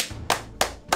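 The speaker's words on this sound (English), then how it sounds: "Let's clap it up." Three sharp, separate hand claps land at a steady beat about a third of a second apart, close and fairly quiet, with nothing else around them.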